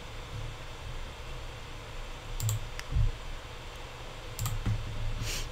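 A few sharp computer keyboard or mouse clicks, roughly three, spread across a quiet stretch with faint background hiss and no talking.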